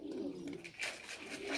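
Soft sparrow calls, chirping nearby, a few short repeated notes over faint background noise.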